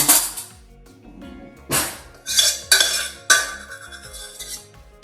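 A spoon scrapes vanilla bean seeds for crème brûlée, giving several close, bright metallic scrapes and clinks against a bowl, spaced irregularly with quiet gaps between.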